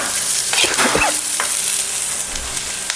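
Vegetables frying for sambar in a pan on a stove, with a steady close sizzle, intermittent scraping stirs and clinks of a spoon against the pan, and no talk.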